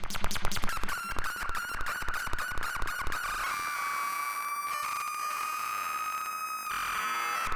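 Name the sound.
mixer and fuzz pedal feedback patch, dying electronics sound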